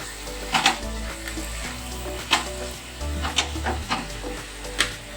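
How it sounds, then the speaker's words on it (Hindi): Fenugreek leaves frying in a pan while being stirred, with a low hiss and occasional scraping strokes of a spatula over a constant background hum, close by and without talk. "5 मिनट के लिए चलाते हुए इसको फ्राई करते हैं।"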